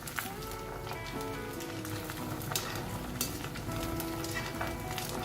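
Semolina gulab jamun balls fry in hot oil with a steady, soft sizzle and scattered pops throughout, moderately quiet, with no talking.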